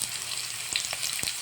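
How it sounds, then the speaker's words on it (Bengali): Potatoes fry in hot oil with a bright, continuous close sizzle, punctuated by a couple of brief crackles as they are stirred. "আলুগুলোকে একটু লাল লাল করে ভেজে তুলে নেব।"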